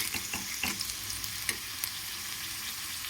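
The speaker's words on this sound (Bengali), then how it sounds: "দেখুন এইরকমভাবে ভেজে নিলাম।" Potatoes fry and get stirred in hot oil in a wok, a steady close sizzle with scraping stir strokes knocking through it, several sharper clinks standing out along the way.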